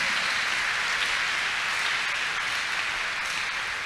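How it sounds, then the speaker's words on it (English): A church congregation clapping together: a dense, even wash of many hands applauding, loud and continuous for about four seconds with no break. "Let's clap unto God and appreciate him"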